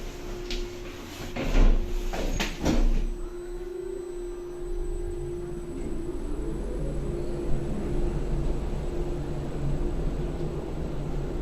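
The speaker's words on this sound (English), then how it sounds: "Door closing." A lift door in a building, with a few sharp knocks and a sliding thud early on, followed by a steady hum and hiss as the lift car runs, and no talk.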